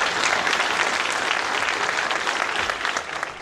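A long ovation at a congress in Capilla del Monte, a dense, steady roar of many hands clapping that fills the room evenly from start to finish.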